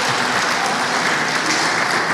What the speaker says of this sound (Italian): applausi timidi della platea